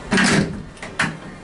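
The door of an old hydraulic elevator reopens instead of closing: a close, loud sliding rumble followed by two lighter thuds as the panels move and stop.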